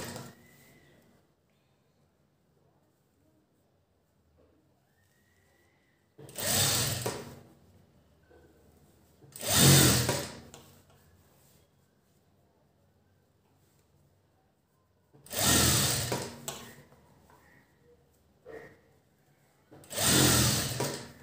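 A sewing machine stitches piping onto fabric in four loud, close bursts of rapid whirring, separated by quiet pauses with soft handling noise.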